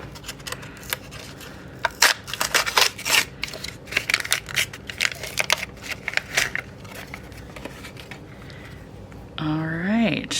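Plain packaging around a box of expired 126 film is torn and crinkled open up close, a busy burst of rustling, ripping and paper crackle, ending with a brief voice.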